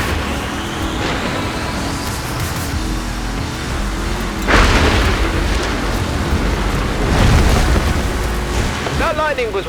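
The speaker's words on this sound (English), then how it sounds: "That lightning was way too close." Thunder from lightning in the racing game Forza Horizon 4 rolls in as a heavy boom over the steady engine of a RAM semi-truck, a loud swell midway and another rumble later, with a voice briefly heard.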